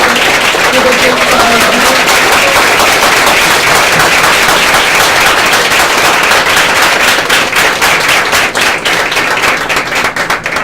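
An audience at a book launch debate on women in Brazilian cinema bursts into loud, steady applause that continues for about ten seconds, with a faint voice briefly audible early on.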